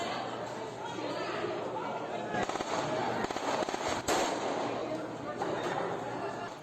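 Several sharp gunshot cracks burst out during a shooting attack at a building housing a university campus during a political candidate's visit, partly masked by a continuous hum of crowd chatter and commotion.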